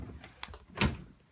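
A hotel room drawer at a Whistler lodge slides and knocks shut, a few light scrapes followed by one firmer thud, close and moderately loud.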